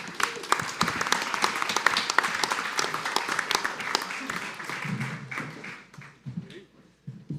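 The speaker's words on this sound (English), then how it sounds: "Give Chris a round of applause." Audience applause at a festival event, steady dense clapping that holds for several seconds, then thins out into scattered claps and a few low voices near the end.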